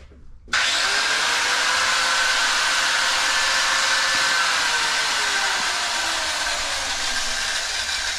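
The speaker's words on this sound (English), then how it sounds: "I use the angle grinder to get him used to this very loud noise" An angle grinder starts abruptly after a brief quiet moment, giving a loud, harsh grinding whine that runs steadily, with a high metallic tone riding on top.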